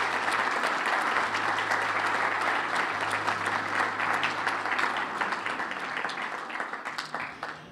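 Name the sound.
audience applause at awards gala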